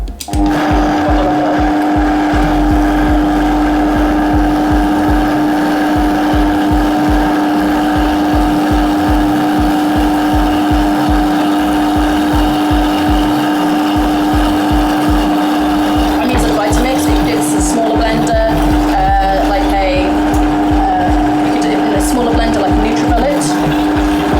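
A blender whirs steadily at close range for the whole stretch, grinding wild garlic pesto with oil, its motor pitch wavering slightly near the end.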